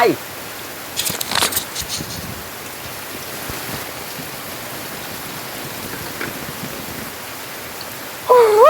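Heavy rain pours as a steady, broadband hiss, quiet and continuous for several seconds, with a few brief louder bursts and a voice speaking at the start and end.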